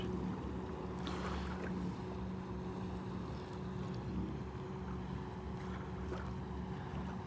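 A boat engine drones steadily from a distance, mixed with wind buffeting the microphone; no voices.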